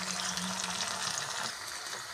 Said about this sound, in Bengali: আদা রসুন পেস্টটা ভাজা হয়ে গেছে